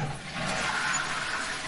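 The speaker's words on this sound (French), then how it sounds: "Tu as officiellement réussi à réparer la chasse d'eau." Repaired toilet flushing, a short continuous rushing roar of water, fairly close and alone.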